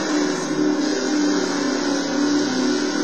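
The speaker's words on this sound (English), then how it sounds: "that's a class 5 buggy and he's trying, you know, to overtake me" A class 5 off-road buggy engine in the racing game Baja Edge of Control, a loud, steady mid-pitched drone that holds constant throughout as the car runs close by.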